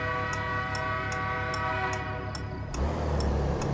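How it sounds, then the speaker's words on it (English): A train passes in the distance with a sustained horn-like tone, then a heavier low rumble of rolling cars, along with a steady regular ticking throughout. "I hear a train."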